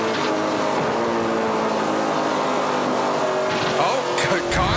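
A NASCAR Pinty's Series race car at the 2019 Total Quartz 200 skids across the track after contact with another car, engine roar and tire noise loud and continuous, with a sharper burst of scraping near the end.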